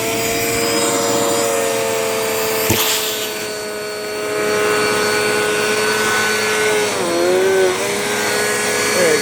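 A loud Dirt Devil Powermax XL vacuum cleaner drones steadily, its whining pitch wavering as it sucks up paper, with a sharp knock partway through.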